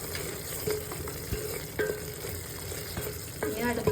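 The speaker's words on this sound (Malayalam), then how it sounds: "മഞ്ഞൾപ്പൊടി ഇടാം, ഇളക്കി കൊടുക്കാം." Turmeric powder stirred into masala frying in a pan for chicken heart biryani, giving a close, steady sizzle with soft scraping strokes of the spoon throughout.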